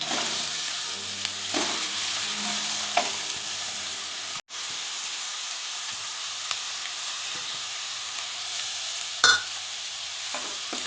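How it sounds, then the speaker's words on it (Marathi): Chopped onion fries in a pan for Maharashtrian amaranth greens, a steady close sizzle broken by occasional stirring scrapes and one brief cut in sound. "कांदा आपण चांगला लाल करून घ्यायचा आहे।"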